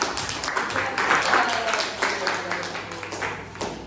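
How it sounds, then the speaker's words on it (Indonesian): A classroom of seventh-grade students claps for group 4 after their tea-making presentation, a steady patter of mixed claps near and far, with voices mingled in. "Tepuk tangan dari kelompok 4."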